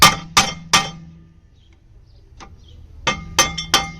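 Sharp metallic hammer blows on a stuck brake bolt of a 2012 Fiat 500, three quick ringing strikes, a short pause with a faint tap, then another rapid cluster of three to four hits, close and loud.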